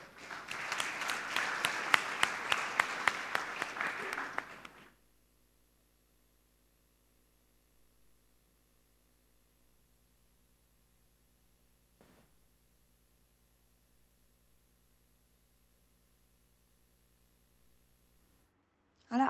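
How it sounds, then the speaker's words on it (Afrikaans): A church congregation at a confirmation service claps together in a dense burst of applause for about five seconds, then falls into near silence. "Lekker hande klap vir Elsje."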